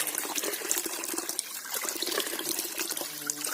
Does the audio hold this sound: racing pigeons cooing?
no